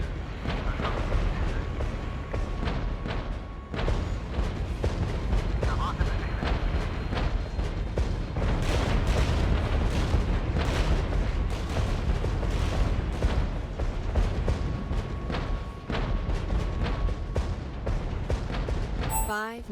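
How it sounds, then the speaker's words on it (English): Relentless artillery barrages in the Regiments war game, a dense, continuous roll of heavy booms and rumbling impacts that stays loud and unbroken throughout, with sharper blasts punching through the wall of noise. "This artillery is relentless."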